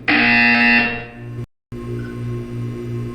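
A loud electronic buzzer blares in Portal 2 for about a second, tapers off and cuts to silence, then a low droning hum with soft tones carries on.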